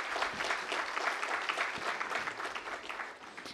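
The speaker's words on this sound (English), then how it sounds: "join me in thanking the panel with a huge round of applause" A large audience at a logistics infrastructure expo panel in India gives the panelists a warm round of applause, dense and continuous clapping that holds steady for several seconds before easing slightly.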